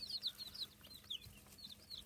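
Chickens, silkies and quail milling about in a backyard courtyard in the morning, with faint high chirps and soft clucks scattered over a quiet background, heard from close by.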